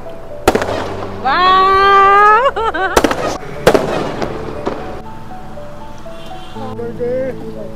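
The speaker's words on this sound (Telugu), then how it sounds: "నేనే క్రాకర్స్ పెట్టించిన చూడు" Several sharp firecracker bangs burst out at irregular intervals, loud and close, at a birthday celebration at a resort in Hyderabad, with voices and a high whistling tone between them.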